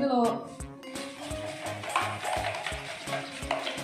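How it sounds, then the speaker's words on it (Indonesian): Homemade play dough mixture with water being stirred in a bowl, with rhythmic scraping and clinking strokes repeating about twice a second, and a voice briefly over the start. "Aduk ya, sampai merata."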